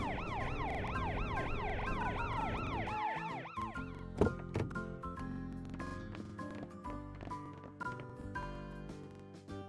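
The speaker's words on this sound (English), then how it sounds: "The ambulance is here." Ambulance siren wailing in rising and falling sweeps, fairly loud for about four seconds, then breaking off into scattered clicks and knocks from toy vehicles.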